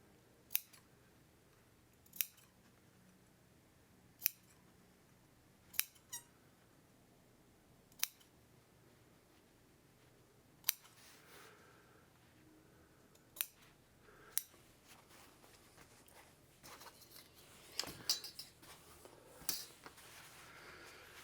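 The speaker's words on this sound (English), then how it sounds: "snip a little in here on the curve especially, so that it would be easier for me to fold it" Scissors snip into muslin fabric along a curve while a jeans pocket is being made. Sharp, quiet cuts come one at a time every couple of seconds, followed by faint rustling of cloth near the end.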